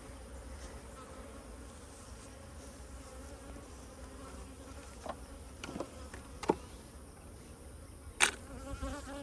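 Honey bees buzz around an open beehive during an inspection of the hive boxes, a steady dense hum close by, with occasional louder passes as single bees fly near, no voices.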